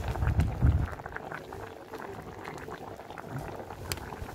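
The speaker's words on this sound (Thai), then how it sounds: "กำลังเดือดปุดปุดเนาะค่ะ" Pot of salty pork leg soup with pickled greens boiling on a gas stove, soft close bubbling and gurgling with a brief louder burble at the start, then a quiet steady simmer.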